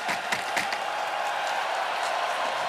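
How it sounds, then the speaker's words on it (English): Fans in an ice hockey arena cheer for a player, a dense, steady roar of crowd noise with some scattered clapping, loud and continuous throughout. "the fans still in the building, still cheering for number 48, Lane Hudson."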